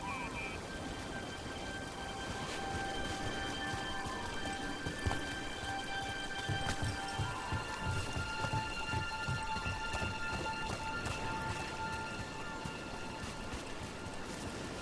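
Steady rain pours throughout a scene in the video game Dragon Age: The Veilguard, a dense even hiss with scattered drops and occasional low rumbles, continuous and fairly loud with no voices over it.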